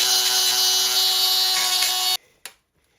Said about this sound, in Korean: 결국 과감하게 드레멜로 깎아냅니다.